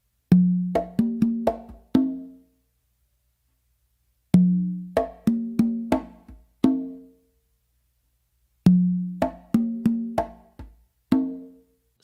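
Full tumbao rhythm on conga and tumba, three repeated bars of crisp hand strokes mixing deep open tones with quicker slaps and taps, close and unaccompanied, with short pauses between phrases.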